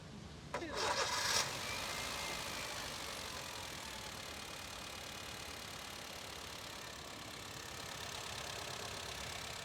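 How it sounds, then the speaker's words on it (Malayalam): A Honda Brio petrol engine idles with a steady, quiet hum that carries on evenly throughout, after a brief louder burst near the start. "നമ്മൾ ബോണറ്റ് അടച്ചു കഴിഞ്ഞാൽ വണ്ടി സ്റ്റാർട്ട് ചെയ്തിട്ടേക്കുന്നത് നമുക്ക് പ്രത്യേകിച്ച് പെട്ടെന്ന് അറിയാൻ പറ്റാത്ത രീതിയിൽ സൈലൻ്റ് ആയിരിക്കും"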